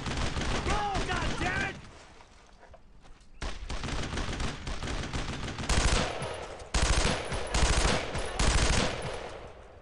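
Heavy gunfire in the Brothers in Arms: Road to Hill 30 World War II shooter, with a tank joining in during the fighting at Vierville. Loud bursts of automatic fire and booming shots come in dense clusters, broken by a short lull.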